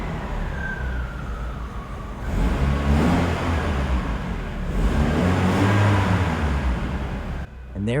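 A BMW E36 engine with a freshly welded, repaired exhaust idles low, then revs up twice in strong rising and falling surges, loud and close, before cutting off abruptly.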